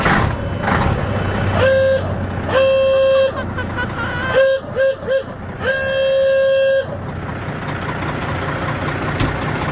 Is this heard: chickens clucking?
no